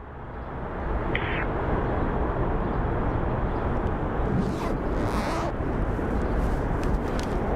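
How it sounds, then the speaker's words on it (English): Broad, steady roar of a SkyWest Embraer airliner on approach at Phoenix Sky Harbor airport, holding a constant loud level across the whole stretch with no talk. "we have our SkyWest Embraer coming in"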